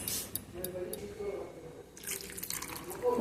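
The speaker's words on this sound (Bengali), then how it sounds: "এবার জল দেব, দিয়ে এটাকে ভালো করে নাড়িয়ে আমরা আলুর মধ্যে দিয়ে দেবো।" Water is poured into a pot of potatoes and chicken for biryani, splashing and trickling in short bursts close by while someone talks.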